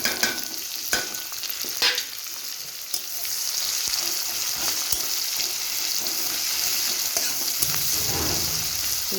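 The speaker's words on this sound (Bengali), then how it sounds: "তেলটা গরম হয়ে গেছে, আমি পেঁয়াজগুলো দিয়ে দেবো। পেঁয়াজ আর রসুনটা দিয়ে দেবো এখন।" Chopped onion and garlic fry in hot oil in a home kitchen, a steady close sizzle broken by repeated scraping stirs of a utensil against the pan.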